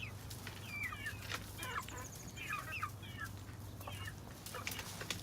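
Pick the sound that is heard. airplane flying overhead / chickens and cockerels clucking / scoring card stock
chickens and cockerels clucking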